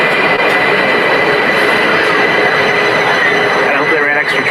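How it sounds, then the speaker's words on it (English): A crowded passenger train heading to an inauguration rumbles loudly along the rails, a steady close rolling roar with faint wheel squeal near the end. "I hope they ran extra trains."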